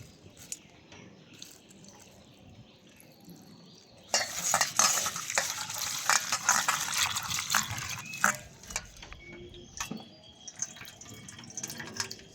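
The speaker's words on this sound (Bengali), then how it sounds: "এবার এই চিড়েটাকে দু থেকে তিনবার ভালো করে ধুয়ে পরিষ্কার করে নেব" Flattened rice (chira) being washed in water, a quiet start giving way to sloshing, swishing water and stirring rattles in a bowl.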